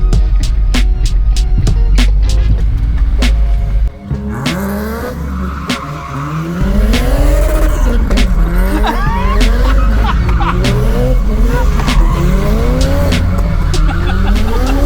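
A Smart car's engine drones loudly while tires squeal repeatedly in rhythmic swoops through a slalom test, weaving back and forth, with a brief dip in engine noise midway.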